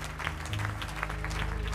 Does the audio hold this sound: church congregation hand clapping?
yes